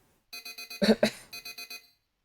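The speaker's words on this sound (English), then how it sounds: "The fact that you wouldn't normally have an alarm, and yet one was ever so loudly echoing in your ears" An alarm clock rings loudly with two bursts of rapid, evenly spaced electronic beeps, broken in the middle by a short, sharp vocal exclamation.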